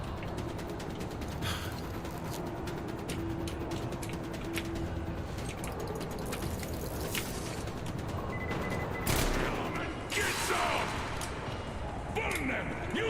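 A shooter video game fills the clip with nearly constant gunfire and grenade blasts, rapid shots crackling throughout, with voices talking over the action.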